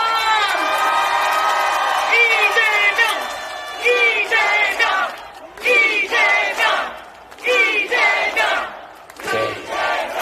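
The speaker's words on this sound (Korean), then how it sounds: "이재명 대표님께 다시 한번 큰 박수 부탁드립니다" A crowd at an outdoor Democratic Party campaign rally in Yongsan, Seoul, cheers and shouts loudly in repeated surging bursts, with chanting voices rising and falling and no single speaker standing out.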